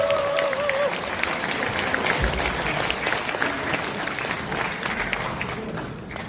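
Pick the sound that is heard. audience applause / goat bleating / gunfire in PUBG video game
audience applause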